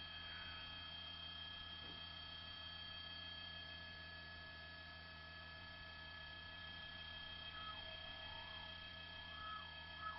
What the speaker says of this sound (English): Was a LAPD chopper that just whizzed by our shot there.